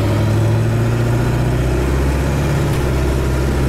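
A Ford 7.3 Powerstroke diesel truck engine idles loudly with a deep, steady rumble, heard from inside the cab with the back window open, continuous throughout.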